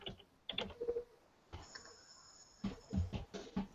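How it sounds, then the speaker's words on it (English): Soft clicking on a computer keyboard while a blog post is written, scattered bursts of fairly quiet keystrokes separated by short pauses, with no voices. "we're not seeing what you're typing"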